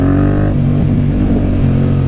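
A Yamaha MT-07 motorcycle engine roaring close and loud, a brief high rev falling away into a rough throbbing growl that holds steady, no talking over it.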